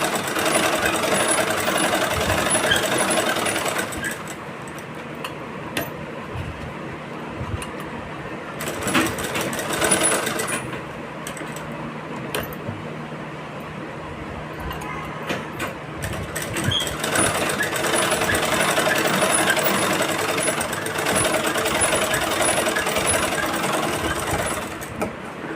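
A sewing machine stitches a blouse with a continuous, fast mechanical whirring hum, close and steady, briefly pausing and restarting a few times.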